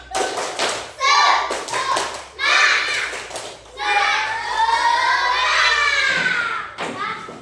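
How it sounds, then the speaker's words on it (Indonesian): Children's rhythmic spirit clap in a classroom: quick bursts of clapping and tapping early on, then loud excited children's voices shouting and chanting together, close and lively. "coba tepuk semangat"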